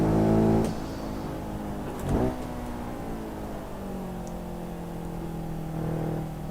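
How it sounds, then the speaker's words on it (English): Race car engine in the racing game Assetto Corsa, revving hard at first, then a quick gear-change blip around two seconds, settling into a steady droning cruise and rising again near the end. "Oh, this car sounds good."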